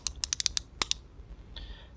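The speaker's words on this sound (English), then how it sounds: "you could wind his arm up, hear a little clicking noise" Wind-up arm on a 1995 Toy Biz Ghost Rider action figure gives a quick run of small, sharp plastic clicks, about eight in a rapid uneven burst, close and fairly quiet, followed by a faint whirring.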